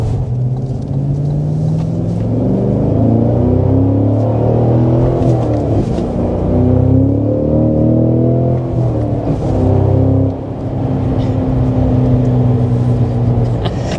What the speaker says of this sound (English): the exhaust in the highest setting with the V mode, the burbles